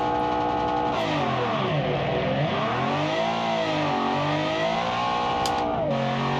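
An Alfa Romeo race car engine in the BeamNG video game revs hard and continuously at the Goodwood hillclimb, pitch rising and falling through gear changes, loud and close with no talking.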